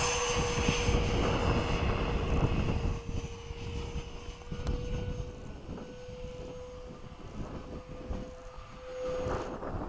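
An F-15 jet flying at sunset, its engine a steady, loud cockpit roar with a constant whine running throughout.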